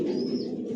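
Racing pigeons coo in a loft, a low continuous murmur of overlapping calls heard close and steady with no voices.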